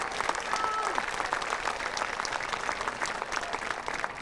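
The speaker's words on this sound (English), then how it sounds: "Give them another round of applause, please." Steady, sustained applause from a large crowd at a high school graduation ceremony, dense clapping filling the room without breaks.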